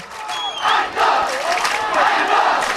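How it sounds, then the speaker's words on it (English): A crowd cheers and shouts at a schools rugby league match between St. Anthony's College and Royal College, a loud, steady roar with rising whoops under occasional voices. "The crowd backing up the team, pushing them forward."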